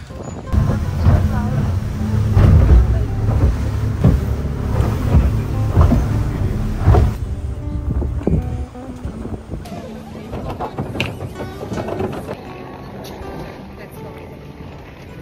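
A speedboat at the Nusa Penida pier, its engine drone and hull slapping against water up close and loud at first, then easing to a lighter mix of wind buffeting and splashes, with some voices under it.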